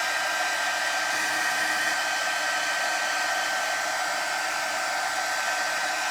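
A hair dryer runs steadily at close range, blowing warm air over decoupage glue sealing red glitter on patriotic lollipops; one continuous, even whoosh with no pauses and no voices.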